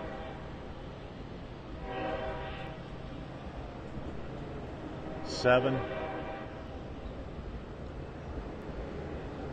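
A packed Long Island Rail Road commuter train rumbles steadily nearby at Mastic-Shirley station while someone speaks over it, with a short horn-like tonal burst midway through.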